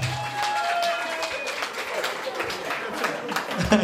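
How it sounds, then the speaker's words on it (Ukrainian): Guests at a wedding in Ivano-Frankivsk applaud and cheer for a couple after a party contest, the clapping steady and crowd-wide with music and voices mixed underneath. "Але ці шалені оплески ви заслужили"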